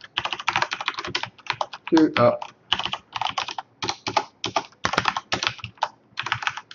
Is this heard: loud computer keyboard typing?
yes